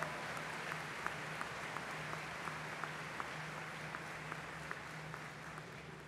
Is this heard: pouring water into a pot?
no